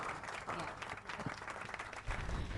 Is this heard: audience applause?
yes